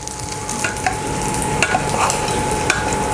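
A fluffy-white fried egg sizzles in a hot pan, a constant crackling fry broken by sharp clicks and scrapes of a spatula working underneath, close and fairly loud with no voices.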